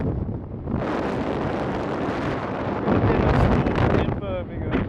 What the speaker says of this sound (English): The wind is 40 miles an hour.